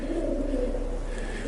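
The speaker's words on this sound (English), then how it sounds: "the various sounds coming from around the church are from the pigeons flying around" Pigeons around a church give a soft, low, steady cooing close by, alone and unbroken for about a second and a half.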